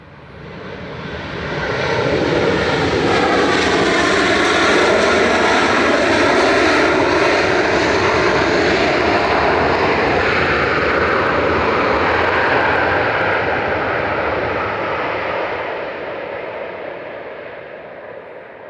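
A Ryanair passenger jet arriving from Brussels touches down on runway 05R at Manchester Airport, a loud, steady roar of engines and rushing air that swells in, holds for about fifteen seconds, then eases slightly as it rolls out.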